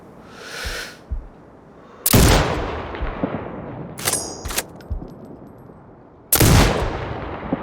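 Sniper rifle shots in the video game Sniper Ghost Warrior Contracts 2, with three loud, sharp, booming cracks that are spaced seconds apart. Each shot rolls off into a long echo, and quieter mechanical rifle clicks fall between them.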